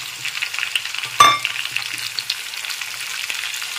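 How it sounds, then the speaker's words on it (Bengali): Chilli chicken frying in a pan with a steady, close sizzle, and one sharp clank of the spatula against the metal about a third of the way through, then light stirring scrapes under the continuing hiss. "ভেজে নিচ্ছি, খুব বেশি ভাজা হবে না। একটু নেড়ে চেড়ে নিলাম।"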